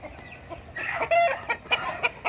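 Soft, repeated clucking from a nearby rooster, a few short throaty calls in a loose rhythm over faint background noise.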